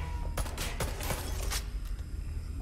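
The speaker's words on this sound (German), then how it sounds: "Vorsicht, Schüsse!" A rapid burst of gunfire in the video game Watch Dogs: Legion crackles over a steady low rumble, several sharp shots clustered early, then a few fainter ones fading out.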